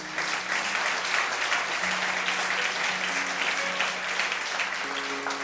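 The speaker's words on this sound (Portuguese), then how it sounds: "Você pode aplaudir a Jesus?" A church congregation applauds during a service, steady even clapping from many hands at moderate distance, sustained throughout with faint tones and murmurs beneath.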